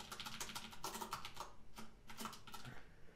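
Typing on a Poker 3 RGB mechanical keyboard during game development work, a quick irregular clatter of key clicks, close and fairly soft, with no voices.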